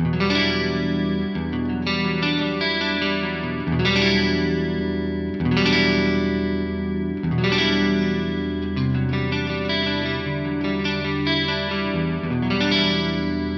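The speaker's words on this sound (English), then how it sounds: "It's making your guitar sound wider, but it doesn't have the wobble from the modulation effect" Electric guitar chords through a pitch detune effect ring out continuously with a wide, doubled shimmer, thick and sustained but without any audible wobble.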